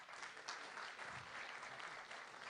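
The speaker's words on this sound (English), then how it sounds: "give them a round of applause" A crowd applauds steadily, a dense wash of clapping that stays even throughout and sounds somewhat distant.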